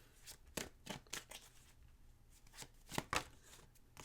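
Tarot cards being pulled from a deck, giving quick soft papery flicks and slides in irregular bursts, close and faint, with no talking.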